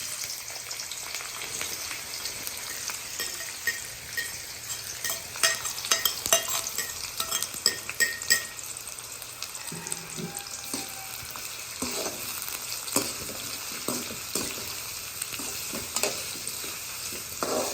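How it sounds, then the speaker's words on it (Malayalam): Onions frying in oil in a pan for a dum chicken biryani, a dense continuous crackling sizzle with frequent stirring scrapes and clatters, close and steady throughout, with no speech. "മറ്റേ ഒനിയനൊക്കെ ഫ്രൈ ചെയ്യണ്ടേ?"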